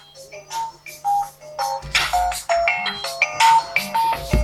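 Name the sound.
phone alarm going off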